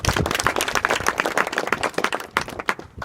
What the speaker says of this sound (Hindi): इनके लिए एक ताली बजाओ जोरदार